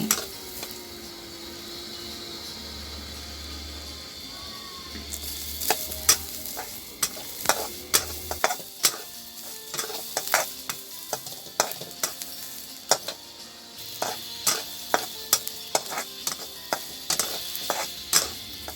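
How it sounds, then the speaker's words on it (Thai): Garlic stir-fries on medium heat in a pan with a spatula, with repeated sharp scraping and clacking strokes over a soft background sizzle, close and fairly loud, and no voice is heard. "เอากระเทียมลงไปคั่วนะคะ ใช้ไฟกลางค่ะ"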